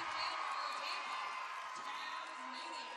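Roller derby crowd at an all-star bout cheering and whooping in a steady, dense roar that fills the whole stretch, with an announcer's voice running over it.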